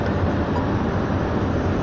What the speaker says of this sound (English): This is that new driverless train.